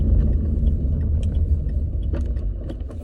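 Car interior while driving, with a steady low road rumble and engine drone filling the whole stretch, plus a few light rattles and clinks like jangling keys.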